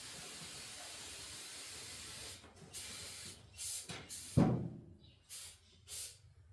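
Brake cleaner sprays in a few short hissing bursts during an oil change on a Ford 8N tractor, starting faint and growing stronger, with one louder burst in the middle, all fairly close.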